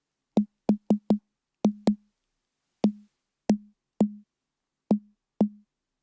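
Synthesized fat snare drum built in Reaktor Blocks, struck in eleven separate hits with an uneven rhythm: quick clusters, then wider gaps. Each hit has a sharp crack, a short body with a slight rattle tail, and no other sound between hits.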